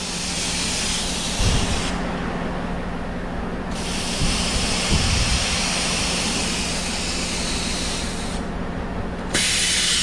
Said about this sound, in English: It's blowing the air out like it's supposed to